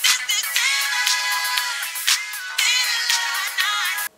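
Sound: mobile phone ringtone

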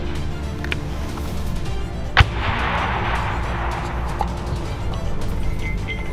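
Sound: mortar firing

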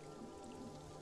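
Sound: rain in the video game Pathologic 2

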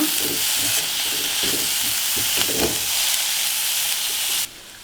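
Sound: stirring fenugreek and egg dish after adding coriander

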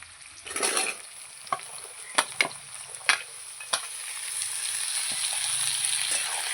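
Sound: vegetables and onion frying together in a pan

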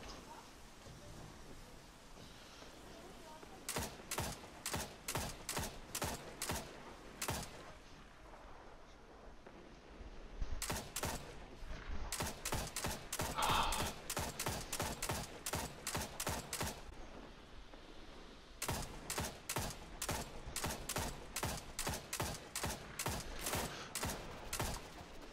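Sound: grenade launcher firing in video game Destiny 2

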